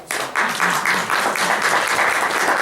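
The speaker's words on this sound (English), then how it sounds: "Let's clap for ourselves" Audience at a talk on healing clapping for themselves, a steady wash of applause from many hands that starts abruptly and holds evenly.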